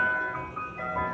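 A Mister Softee ice cream truck on a Hong Kong street at night plays its tinkling chime jingle, a steady, clear melody heard close by for a brief moment.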